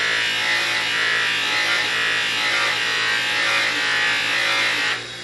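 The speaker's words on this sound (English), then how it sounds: "I just use a screwdriver and try to run it across it." A screwdriver held against a spinning buffing wheel on a grinder to clean it: a loud, continuous raspy scraping hiss lasting several seconds close up, easing off sharply at the end.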